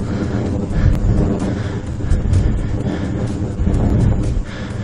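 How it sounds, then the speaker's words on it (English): Steady, heavy wind buffeting the microphone while riding a bicycle at speed, a continuous low roar that surges and eases in waves without talking. "Feeling the wind blasting into our face here, trying to keep our speed up."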